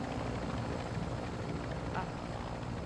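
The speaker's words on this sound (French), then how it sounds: "Un hélicoptère." A video-game helicopter's steady rotor roar drones without a break, loud and close, with faint voices murmuring underneath.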